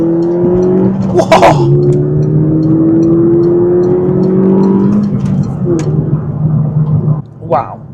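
Peugeot RCZ 200THP accelerating hard, engine note climbing through the revs with a gear change and a brief drop-off near the end, loud from inside the cabin, with a short excited exclamation over it.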